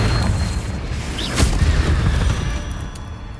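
A Confringo fire spell explodes in the Hogwarts Legacy video game, one sharp boom over a dense bed of game noise and rumble, with no voice during the blast.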